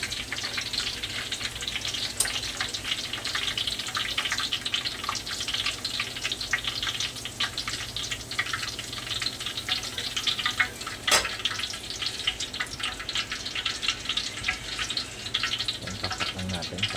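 Peanuts fry in hot oil for adobong mani, a steady crackling sizzle that runs continuously up close, with occasional sharper pops.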